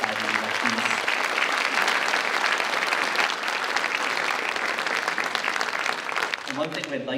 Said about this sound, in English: A nice round of applause for our Foreign Language Honor Society inductees.